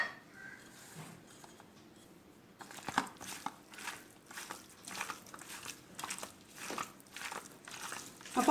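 Raw meat for a pickle is worked by hand with spice powders and ginger-garlic paste, giving soft, wet squelching and rubbing sounds in a steady rhythm after a quiet start, close and fairly faint.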